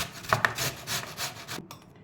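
An onion is grated into pulp with a quick series of close, rhythmic rasping strokes against the grater, with no talking, then a sudden stop.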